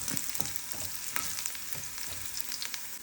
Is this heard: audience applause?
no